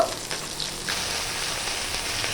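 Fish fries in hot oil in a pan, turned to crisp its other side, giving a steady close sizzle and crackle with no talking.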